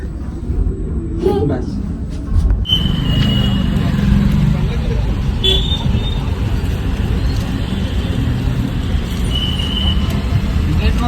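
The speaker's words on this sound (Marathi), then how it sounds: "बाहेर निघलं तर ट्रॅफिक चालू" Low rumbling road traffic in Rajgurunagar, Pune, with engines droning nearby, a few faint horn tones, and brief speech near the start.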